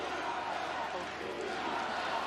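Dense roaring crowd noise at an Ireland versus Italy under-20 rugby match, a steady wash of cheering and shouting that stays loud and unbroken throughout.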